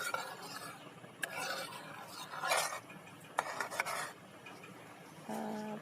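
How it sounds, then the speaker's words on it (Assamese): A spoon stirs and scrapes through a thick pitha dough mixture coming to a boil in a pot, with irregular rasping strokes and clinks against the metal. A brief low tonal hum comes near the end. "উতল আহিছে লাহে লাহে এইবোৰ মই ভালকৈ লৰাই দিছোঁ"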